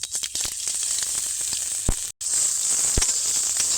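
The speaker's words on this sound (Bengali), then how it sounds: "গোটা জিরে তেলের মধ্যে দিয়ে দেবো এবার দিয়ে দেবো মাখিয়ে রাখা আলু" Potato filling tossed with whole cumin sizzles and fries steadily in hot mustard oil in a brand-new wok, a continuous close hiss broken by a few sharp pops and one brief gap.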